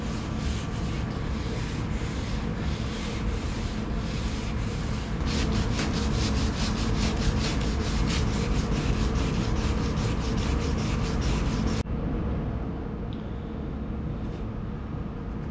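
Steady rubbing and sanding strokes on a car's rear bumper being prepped for repaint, a continuous close scratchy texture with a rhythmic pulse, easing to a quieter tone near the end; no talking.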